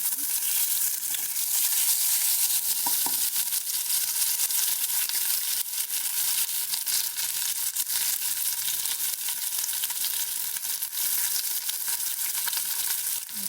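Curry leaves crackle in hot oil for Kerala chicken thoran, a loud, dense, unbroken sizzle close up with scattered pops and the odd stir, no talking.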